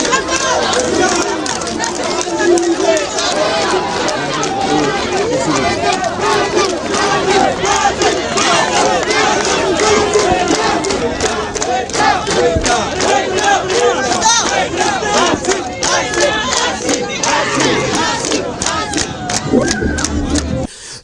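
A large, dense crowd roars, shouts and cheers continuously and close up as the head of state greets people on a walkabout in Sikasso, with voices overlapping throughout.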